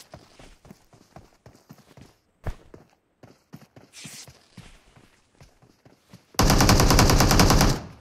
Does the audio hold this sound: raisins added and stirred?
no